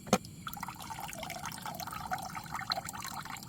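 Water trickles and drips steadily while being filtered for drinking on a rowing trip, a soft close liquid dribble with small splashy patters throughout, no talking.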